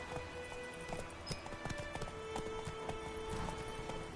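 Horse hooves galloping in a PS4 video game, a quick, steady clip-clop of hoofbeats heard close and fairly quiet over a dense background of game sound.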